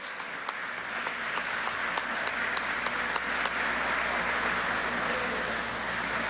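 Steady applause from a conference audience in Venezuela welcoming Professor Ignacio Ramonet, moderately distant and even, with occasional sharper claps over a low room hum.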